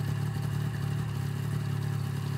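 A Ski-Doo MXZ 600 snowmobile engine idles close by, a steady, even two-stroke burble with a fast regular pulse and no talk over it.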